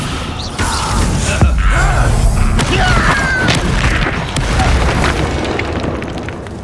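A slam spell strikes in the Hogwarts Legacy video game on PS5, a heavy booming impact followed by crashing debris and thuds that rumble loudly and steadily for several seconds.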